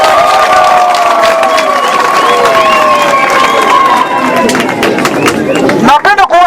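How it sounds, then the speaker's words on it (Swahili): A crowd at a political rally in Uvira bursts into applause mixed with cheering, shouts and whistling voices. The sound is loud and sustained, and excited voices rise clearly near the end. "Makofi."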